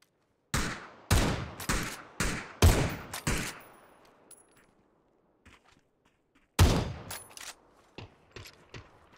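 Loud single gunshots from PUBG crack in an irregular series, echoing briefly, then a pause with faint thumps before another cluster of shots.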